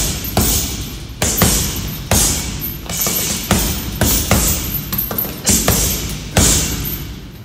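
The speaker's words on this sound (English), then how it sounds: "it's very good to hit the bag bare knuckle" Bare-knuckle punches strike a punching bag, landing as a series of sharp thuds in an uneven rhythm, roughly one per second, loud and close with no talking.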